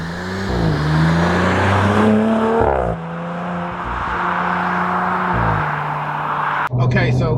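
A 2022 Audi RS4 in RS mode accelerates hard, its engine note climbing in loud rising steps through gear changes, with a voice speaking over the engine.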